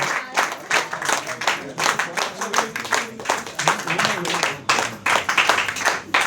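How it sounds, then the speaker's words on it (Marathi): A room full of people at a training event claps for Suraj sir, loud bursts of applause coming in uneven waves from close by, with a few voices mixed in. "सूरज सरांसाठी एक जोरदार टाळ्या झाल्या पाहिजेत, एज्युकेटच्या टाळ्या"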